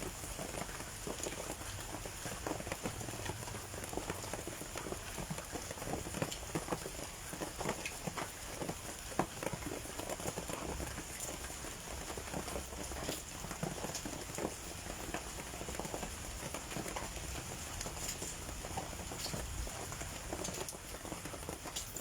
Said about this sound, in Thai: โอ้ฝนตกฝนตก